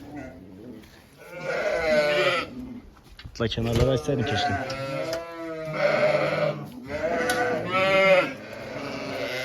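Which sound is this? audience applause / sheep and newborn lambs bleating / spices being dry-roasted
sheep and newborn lambs bleating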